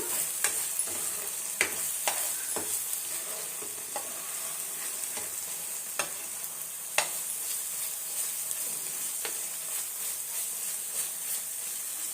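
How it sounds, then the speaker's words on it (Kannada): Masala for a Karnataka-style garlic rasam frying and being stirred in oil, a steady close sizzle broken by sharp spoon scrapes against the pan every second or two, with no voices. "ಮಸಾಲ ಒಂದು ಎರಡು ಮೂರು ನಿಮಿಷ ಚೆನ್ನಾಗಿ ಹುರ್ಕೊಬೇಕು ಎಣ್ಣೆ ಎಲ್ಲ ಚೆನ್ನಾಗಿ ಬಿಟ್ಕೊಳ್ಳೋ ತನಕ ಹುರ್ಕೊಳ್ಳೋಣ"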